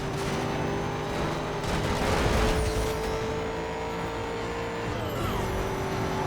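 A Mazda MX-5 engine from Need for Speed: Most Wanted (2005) hums steadily at close range, its droning tone shifting as the car accelerates, with no voices over it.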